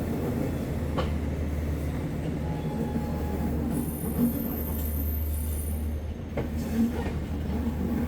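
The 22179 Mumbai LTT–Chennai Express departs Lokmanya Tilak Terminus. Steady rolling rumble and rail noise are heard from on board, with faint clicks from the wheels and a high squeal midway. The sound stays continuous throughout.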